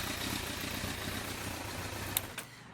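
A 2004 Kawasaki ZRX1200R muscle bike idles with a steady, low engine rumble at moderate level, broken near the end by two brief sharp clicks.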